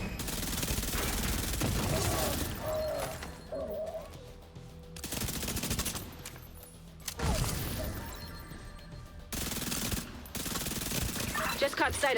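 Heavy automatic gunfire comes from a shooter video game in dense, sustained bursts with short gaps between them. The shots are loud and continuous, and someone talks over them throughout.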